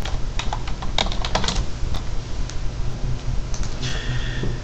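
A database name being typed on a computer keyboard: a brisk burst of close, crisp key clicks, then a few scattered taps and a final sharp keystroke.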